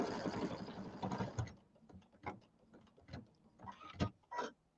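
Computerized embroidery machine stitching a tack-down line on a piece of cotton fabric, heard as a busy mechanical whir at first, then a series of short separate ticking and clacking bursts.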